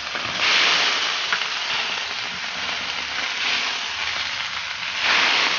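Beans frying in a hot pot in a home kitchen, a steady loud sizzle that swells and eases, close and continuous with no talking.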